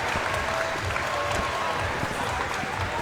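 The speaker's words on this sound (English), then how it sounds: "Nice round of applause from the home crowd." Steady applause from the home crowd at a men's college volleyball gold medal final, a continuous dense clapping wash from the stands with faint crowd murmur, moderately loud and unbroken throughout.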